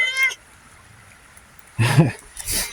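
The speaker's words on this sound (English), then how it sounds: "the cat's very chatty" A house cat meows several times outdoors by a creek on rural property: a short tonal cry at first, then two louder, closer meows after a quiet pause, with faint running water behind.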